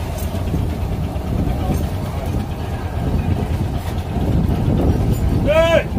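Engine of a fish-buying boat casting off at sea, a steady low idling rumble with wind buffeting the microphone, growing slightly louder toward the end as a brief high tone sounds.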